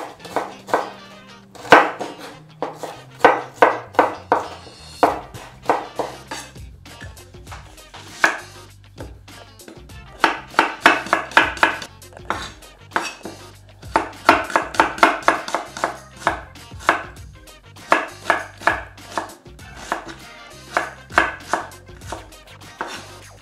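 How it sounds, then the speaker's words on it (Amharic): A knife chops onions on a board in fast rhythmic bursts of crisp knocks that pause and resume, close and clear with no voices. "መጀመሪያ እዚህ ጋር ሽንኩርቴን ከትፋለሁ"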